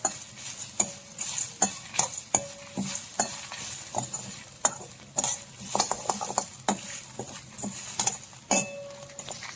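Freshly grated coconut roasts in a pan for tiffin-centre sambar, a soft dry sizzle under busy rhythmic stirring, with a spoon repeatedly scraping and clinking against the metal; no talking.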